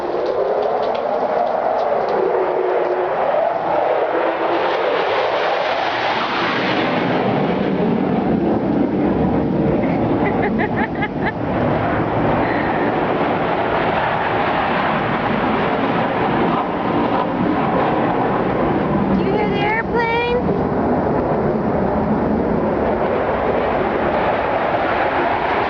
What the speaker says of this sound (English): Brayden, you hear the airplane?